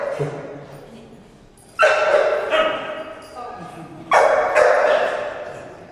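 A puppy on a short leash during training lets out two sudden, loud bursts of barking and yipping that trail off, separated by quieter whimpering and background sound.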